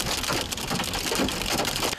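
Hail pelting down during a hailstorm in Pecos, Texas, a dense, steady clatter of stones striking surfaces that stays loud and close throughout with no voices.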